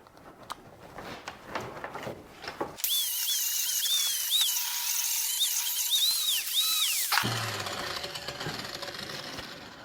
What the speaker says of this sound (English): Take my flapper wheel and just kind of clean up all these edges I'm going to be welding on.